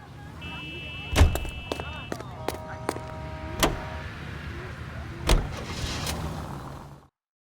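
A car drives in the L.A. Noire video game: a steady engine hum with sharp clicks and thumps scattered through it, then a sudden cut to silence at the end.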